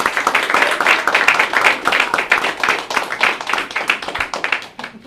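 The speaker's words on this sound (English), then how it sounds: "How about a round of applause?" Audience clapping at a morning meeting session, a loud, dense round of many hands with distinct claps, holding steady and then thinning out toward the end.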